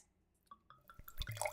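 Red wine, a 2016 Vino Nobile di Montepulciano, starting to pour into a glass: a short run of close, gurgling drips and splashes that thicken into a steady trickle over about a second and a half.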